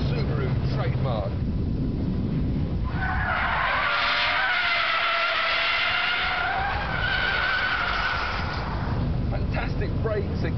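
Subaru Impreza rally-bred road car braking hard with front tyres skidding and smoking, a loud sustained tyre squeal swelling in the middle under engine and road noise, with someone talking over it.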